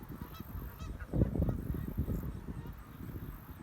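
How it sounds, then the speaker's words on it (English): Loud geese honk repeatedly at close range in an outdoor setting, a dense overlapping chorus of harsh calls that swells around the middle and carries on steadily to the end. "It's loud geese."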